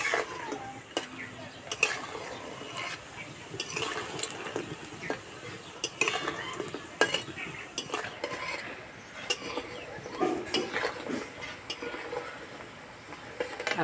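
Khasta goja sweets made of flour and sugar fry in a pan, a continuous bubbling sizzle broken by frequent metallic clinks and scrapes of a utensil stirring.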